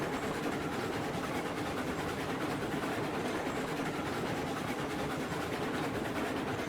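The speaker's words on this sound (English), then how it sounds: "Let's see what this train does anyway." A train runs along the track in the Railroads Online video game, a steady, dense rumble with a continuous clattering texture and no speech.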